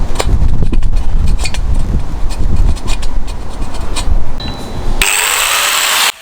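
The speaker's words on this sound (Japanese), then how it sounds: "この L チャンネルね、これを切ってここに当てようかなって思います" A power tool grinds and scrapes through a steel L-channel during repair of an old electric shaved-ice machine, loud and close, rough and uneven, then shifting to a harsher high hiss before cutting off abruptly.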